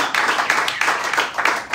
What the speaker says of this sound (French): Applaudissez pour les sauveurs.